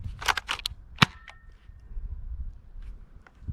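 A Topsolid K2 foam dart blaster fires a dart: a few faint pops near the start, then one sharper snap, over a quiet room background.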